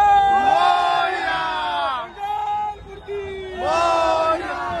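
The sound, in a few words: crowd cheering Ganpati Bappa at Gudhi Padwa procession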